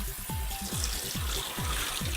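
Tap water runs steadily into a sink while a wig is being washed, a continuous close splashing stream with no talk.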